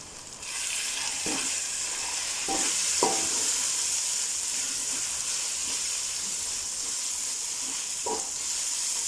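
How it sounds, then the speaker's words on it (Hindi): Spices sizzle in hot oil for a mutton maghaz masala fry, a steady bright hiss with several sharp scraping clicks as a spoon stirs the pan, close and continuous with no talking. "मसाले को अच्छे से भून लेंगे।"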